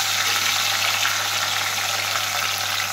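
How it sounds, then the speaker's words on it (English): Onions and chopped tomatoes dropped into preheated oil fry with a loud, steady, dense sizzle that holds evenly throughout. "So the oil is already preheated. First, we're going to add some onions. We're going to add the tomatoes,"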